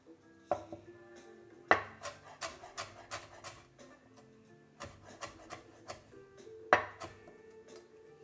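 Ginger minced with a knife on a cutting board for a vegetable coconut curry, irregular close knife chops in quick bursts with pauses, some louder whacks, no talking.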